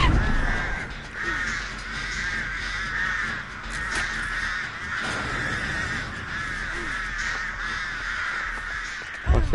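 Crows in Dead by Daylight caw repeatedly and loudly, a dense flock of harsh overlapping calls continuing throughout, close and unbroken.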